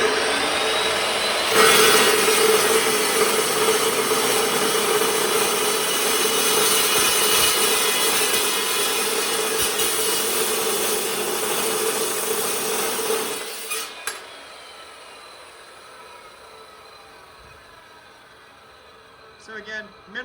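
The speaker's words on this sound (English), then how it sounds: "we're going to be cutting that same 3-inch, 1/2 inch wall tubing just like we were with the 90-tooth blade" A Metal Devil cold saw with a 66-tooth blade cuts 3-inch steel tubing with half-inch walls, a loud steady grinding whine with a ringing tone that ends abruptly, followed by quiet workshop sounds.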